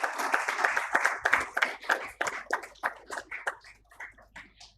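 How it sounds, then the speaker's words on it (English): An awards-ceremony audience applauds the jury members with a dense burst of hand clapping that gradually thins out into scattered individual claps. "Can we have a huge round of applause for our jury members?"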